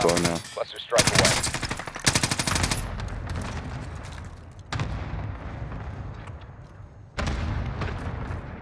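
Cluster strike explosions in a multiplayer shooter video game, a series of loud, dense bursts of booms and rapid gunfire-like crackle in several waves, with brief lulls between them and no voices over it.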